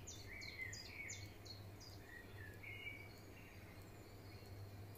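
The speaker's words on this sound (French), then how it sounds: "Et laissez-vous transporter par les oiseaux." Faint birds chirp in short repeated calls, clustered early and then sparser, over a soft steady background hum in a calm outdoor setting with no talking.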